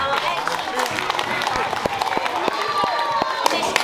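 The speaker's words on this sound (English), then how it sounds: "I would like a round of applause for both teams." School audience at a Year 8 debate claps for both teams, a loose scatter of individual hand claps over a murmur of voices, moderately loud and sustained for a few seconds.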